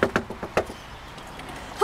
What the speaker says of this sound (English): Let me knock on a few doors and see what they're up to.